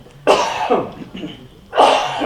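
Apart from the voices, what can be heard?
cough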